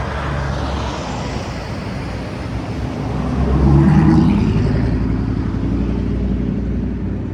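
Road traffic passes by as a steady, loud roadway roar, with one vehicle swelling louder near the middle before the sound settles back to a constant rumble; no one speaks.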